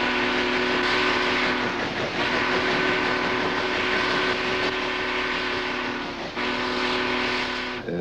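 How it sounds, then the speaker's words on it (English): A Union Pacific steam locomotive sounds its low, moaning steamboat whistle, a loud sustained tone held for several seconds over rumbling, rattling train noise, briefly dipping near the end. "That type had what we termed the steamboat whistle, which was a low moaning type whistle."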